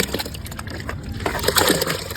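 Mustard cake liquid fertilizer is poured and stirred into about 40 litres of water, making close sloshing and splashing sounds with uneven, repeated swirls.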